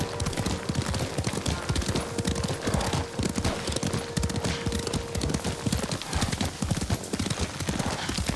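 Horse galloping in the game Ghost of Tsushima, steady rapid hoofbeats loud and continuous throughout, with a faint low tone in the background partway through.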